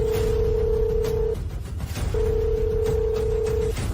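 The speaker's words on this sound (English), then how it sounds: "Phone." A telephone rings with two long electronic trills separated by a short gap, loud and close with a low room murmur underneath.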